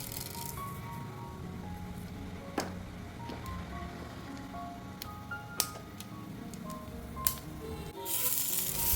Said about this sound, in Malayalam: ഇനി ഒരു പാൻ ചൂടാകുമ്പോൾ അതിലേക്ക് വെളിച്ചെണ്ണയോ ബട്ടറോ ചേർത്ത് കടുക് പൊട്ടിച്ചെടുക്കാം.